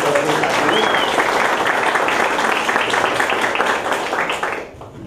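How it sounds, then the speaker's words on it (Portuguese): Classroom applause after a game in a child psychology lesson: a room full of people clapping loudly and steadily for about four seconds, then thinning out and stopping. "Uma salva de palmas para todo mundo aí pela brincadeira."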